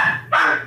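A second house dog lets out a single sharp bark, close and clear, following a fading earlier yelp.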